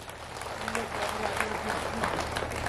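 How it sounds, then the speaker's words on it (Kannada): A crowd at a Congress party workers' convention in Koppa claps loudly and steadily for several seconds, the applause close and continuous with some voices mixed in. "ಹಂಗೆ ಜೋರಾಗಿ ಚಪ್ಪಾಳೆ ಹೊಡೀರಿ."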